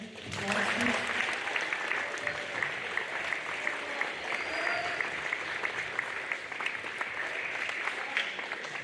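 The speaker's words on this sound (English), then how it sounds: "Can we give a round of applause?" School assembly audience gives honored students a round of applause, a steady, moderately loud wash of clapping that lasts about nine seconds, with a few voices and a cheer faintly mixed in.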